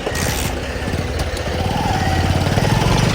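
A motorcycle engine runs nearby with a steady, chugging idle that grows slightly louder and more rhythmic toward the end.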